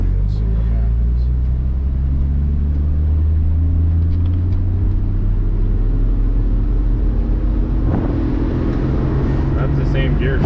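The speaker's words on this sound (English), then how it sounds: "Let's just come to a complete stop and do a acceleration to 40 and see what happens." A 1974 AMC Hornet fitted with an overdrive transmission and a Ranger 8.8 rear end pulls away from a stop toward 40, its engine a steady low rumble that swells through the gears, heard from inside the car.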